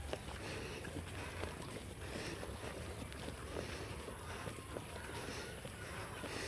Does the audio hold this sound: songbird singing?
no